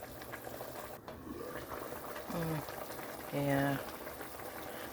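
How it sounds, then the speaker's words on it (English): Low-carb chicken and sausage soup simmering in a pot, a steady soft bubbling hiss running throughout beneath brief speech and a couple of short tonal sounds. "I'm gonna let this finish boiling for like maybe 3 more minutes"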